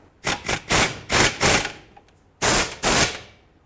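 Rapid bursts of an impact wrench running down brake caliper bolts on a 2010-2017 Chevrolet Equinox during front hub replacement, several loud close buzzing rattles with short pauses between them.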